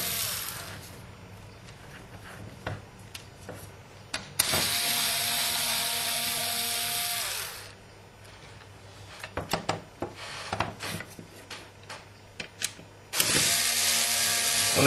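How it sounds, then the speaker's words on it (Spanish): Screws being loosened on a PlayStation 2 case with a screwdriver, heard as dense clicking ratchet-like scraping with two sustained loud buzzing passes from a ratcheting driver, close and steady without speech. "Procedemos y aflojamos los tornillos."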